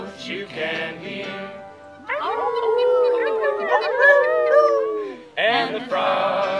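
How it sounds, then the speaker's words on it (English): A lone coyote howls at night, rising and wavering cries with yips sung out over a few seconds, close and clear, with a voice singing before and after. "The lonesome note of a lone coyote is a song that you can hear"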